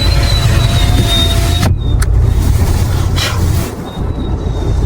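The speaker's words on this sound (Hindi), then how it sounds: "देखो ट्रैफिक लग गया हमें।" Vehicles stuck in a traffic jam on a snowy mountain road in Manali, with a loud, steady engine rumble close by and a few faint tonal whines over the top, without any talking.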